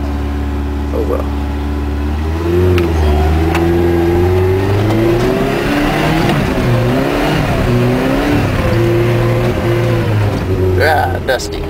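Small Dodge Ram 50 / Mitsubishi Mighty Max pickup doing donuts on dusty ground, its engine revving up and down in wavering surges for several seconds, close and loud.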